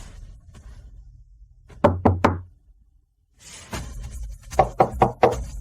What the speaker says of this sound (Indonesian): biarkan dia mengetuk sebentar